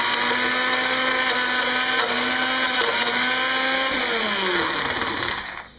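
A NutriBullet blender whirs steadily through thick almond butter, its motor drone loud and close with a tone that wavers and drops as the paste clings to the sides, then winds down and stops.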